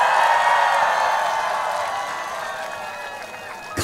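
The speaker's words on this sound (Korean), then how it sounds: "박수 한 번만 주시겠어요?" A crowd applauds at the opening ceremony of the Emile Festival in Gyeongju, a broad wash of clapping that is loud at first and then gradually fades over a few seconds.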